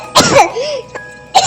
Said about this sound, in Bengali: আমার খুব কাশি আসছে।